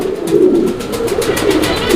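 Pigeons coo in a steady, throaty rolling murmur at a seller's loft of breeding pairs, close and loud, continuing without a break.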